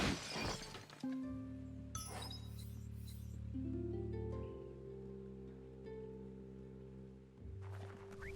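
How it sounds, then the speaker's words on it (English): A wooden box smashed in the video game Biomutant: a sharp shattering crash near the start, then brief clattering debris over a sustained tonal game music bed, with no talking. "You shouldn't worry about smashing up the box"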